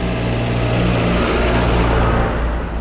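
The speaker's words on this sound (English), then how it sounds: "Got a tractor coming along now, so I'll just wait for him" A tractor rumbles close past on a country road, its heavy engine a loud, steady drone that fills the whole moment without any talking.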